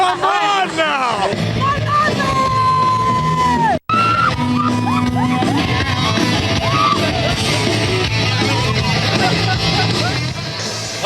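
A crowd at a Las Vegas New Year's Eve party screams, whoops and yells loudly and continuously, with shouting voices on top and a brief sudden cut partway through.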